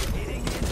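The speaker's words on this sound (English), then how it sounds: "I'm trying to shoot the jump pad out." Gunfire in Apex Legends aimed at a jump pad, a dense muffled burst of shots and impacts, moderately loud and close, with a sharper hit near the end.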